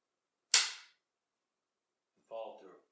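A long range rifle is dry fired: one sharp, crisp metallic click of the trigger and firing pin snapping on an empty chamber, close and isolated in silence, followed later by a brief faint sound.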